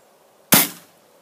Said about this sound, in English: I'm gonna be shooting this Chobani yogurt.